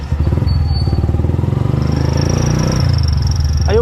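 A motorcycle engine idles steadily up close, a continuous throbbing rumble with no speech over it; the bike has an air filter problem.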